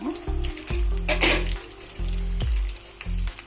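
Curry leaves and green chillies sizzle and fry in a hot pan, with a steady loud crackle broken by a few stirring scrapes and clinks, no talking.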